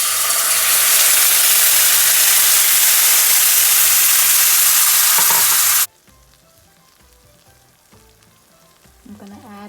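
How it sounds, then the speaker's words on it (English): Curry paste toasts in a hot pan, a loud, dense sizzle and frying hiss that dominates for several seconds before dropping abruptly to a much quieter, faint crackle. "Now I'm just toasting our curry to really bring out that flavor."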